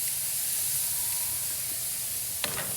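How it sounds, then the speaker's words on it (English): Pork tenderloin searing on a hot grill, a steady close sizzle and hiss running throughout, with a brief sharper crackle near the end. "I'm looking for that sear right off the bat"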